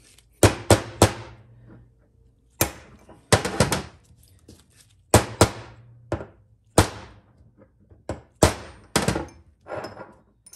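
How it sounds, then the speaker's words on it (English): A bushing driver is hammered to pop a gear bushing out of a Ford 4R100 transmission gear, giving sharp metallic strikes in quick pairs and triplets with short pauses between bursts, close and loud. "you can use a bushing driver to pop out the other one"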